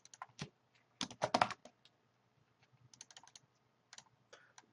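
Keys on a computer keyboard are tapped in short, uneven bursts, quiet and close, with clusters of quick presses separated by brief pauses.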